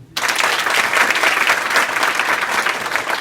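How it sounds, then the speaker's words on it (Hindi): A school audience of students breaks into loud, sustained applause at a girls' inter college, the clapping dense and continuous right after a brief quiet start. "तो ताली बजाओ"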